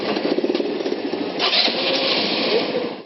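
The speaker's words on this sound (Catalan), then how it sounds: "Engeguem els motors per fer la primera ruta turística a Espanya amb aquests vehicles, els hot rods." Hot rod engines crank and catch in Palma, Mallorca, settling into a loud, rough, rapidly pulsing idle that swells as another motor revs up close by.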